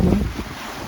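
Small boat riding choppy sea waves of about 0.8 to 0.9 m, with steady wind rushing across the microphone and low water and hull rumble throughout, loudest at the start.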